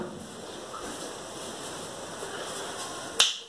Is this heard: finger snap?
yes